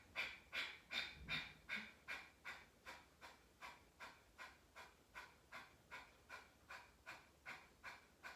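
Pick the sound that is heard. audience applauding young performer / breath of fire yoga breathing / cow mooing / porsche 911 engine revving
breath of fire yoga breathing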